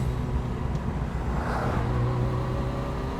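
A Honda S600 sports car engine revs steadily while driving, a continuous moderately loud drone with a slight rise in pitch midway, heard from inside the moving car.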